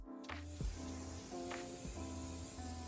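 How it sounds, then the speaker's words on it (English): Short hissing bursts of Redken shine spray misted onto hair, two or three quick close sprays with a soft background hum. "And I will spray so much of it."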